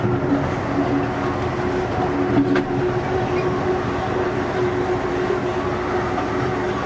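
Aboard Amtrak's Capitol Limited passing through Porter Junction in Indiana, a steady close rumble of the rail car fills the scene with a low droning hum and faint wheel clatter throughout.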